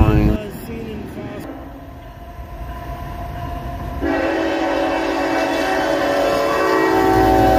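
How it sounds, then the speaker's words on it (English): Locomotive 4568, an Operation Lifesaver unit, rumbles loudly past on a former New York Central line, a steady heavy engine drone and rail noise that swells midway and holds close. "This is my second favorite locomotive in the history of ever, 4568, Operation Lifesaver Unit."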